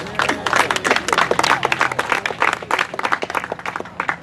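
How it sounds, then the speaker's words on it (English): Scattered audience clapping at a summer barbecue in Whitcomb Hall, Swanzey, New Hampshire, honoring the committee chairman; moderate, uneven claps with crowd murmur and voices mixed in throughout. "she deserves a round of applause for putting up with us"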